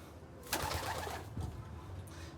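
A racing pigeon cooing softly in its loft, a faint low burbling coo against quiet background hiss, with no talk.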